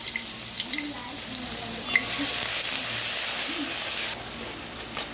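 Ginger, garlic and green chili paste frying in oil for chili potato, a soft sizzle that swells into a brighter hiss midway before easing off, with a few light clinks.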